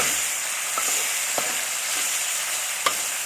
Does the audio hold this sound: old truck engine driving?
no